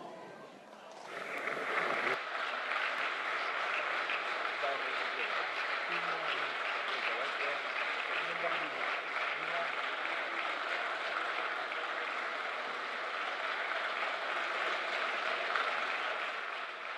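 Applause breaks out in the Senate chamber, swelling quickly into sustained clapping from a large crowd that carries on steadily, with a voice heard briefly beneath it.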